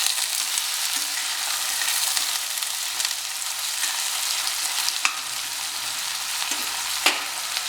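Onions frying in a pan toward golden brown give a steady broad sizzle and hiss, close and continuous, with a couple of faint stirring clicks and no talk.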